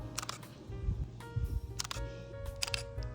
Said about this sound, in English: I love the sound of the mechanical shutter of this camera.